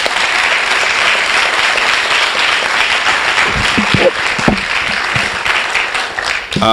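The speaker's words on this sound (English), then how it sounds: "If we could give them a round of applause." Sustained applause from an audience at a class of 2004 celebration honoring board members, dense and steady clapping throughout with brief louder bursts and faint voices underneath.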